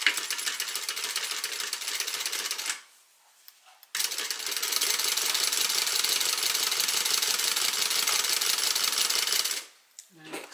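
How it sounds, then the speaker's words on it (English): A sewing machine stitching along a zipper runs in two steady, buzzing bursts, about three and six seconds long, separated by a brief pause and ending in quiet. "I like to stitch from the back of the zipper if I can"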